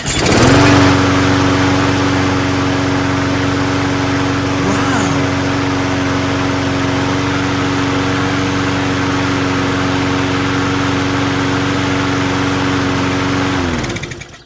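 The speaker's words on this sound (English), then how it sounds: "Let's see if it runs better just without the clogged air filter, and it's not the carburetor." A Murray Briggs 6HP 20-inch push lawnmower, a curbside find, runs with its clogged air filter removed, its small engine droning close and loud at a steady even pitch before cutting off at the end.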